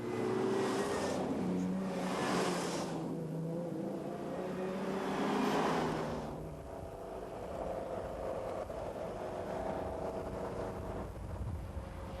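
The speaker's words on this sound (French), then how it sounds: "où l'on retrouve, sous bonne escorte, 3 Ferrari 250 GTO." Three Ferrari 250 GTO cars driving on a rural road during the 1997 Tour Auto pass by as swelling engine roars, loud then receding to a steady distant drone with wind noise.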